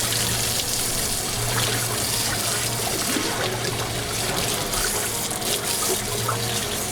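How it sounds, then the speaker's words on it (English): Water runs and splashes steadily as salt is rinsed off, probably aboard a boat, a continuous hissing stream with a low hum underneath and no voices. "you definitely want to rinse off the salt"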